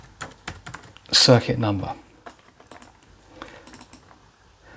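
Typing on a computer keyboard while building a consumer unit circuit chart, a brief burst of loud clustered keystrokes followed by lighter scattered taps, with someone speaking over parts of it.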